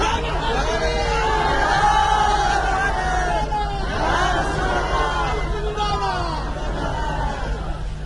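A large crowd at a religious gathering in Layyah loudly chants a slogan together, rising and falling waves of many voices calling out in unison, with some background chatter mixed in.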